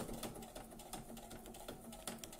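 A sewing machine stitching through several thick layers of fabric and insulation for a water bottle carrier, a quiet, rapid, steady mechanical chatter throughout.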